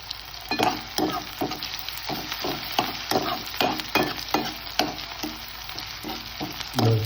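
Onions and chilies sizzle in a hot pan for misal while a spoon stirs and scrapes, giving a steady frying hiss broken by rhythmic, close stirring clinks roughly every half second.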